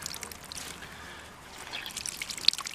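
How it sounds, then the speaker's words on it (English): Water wrung out of a soaked sand-free beach towel, soft trickling and dribbling close by that swells into uneven splashy drips toward the end. "So even if I ball it up and I sit here and I squeeze it, it is just loaded and loaded and loaded with water."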